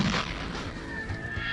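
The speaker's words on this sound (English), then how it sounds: "One of the stunts that they did was to blow up a bunch of old gasoline." A concussive blast of exploding old gasoline, used as a film sound effect, gives a loud, dense roaring boom that stays heavy and rumbling for its full short length.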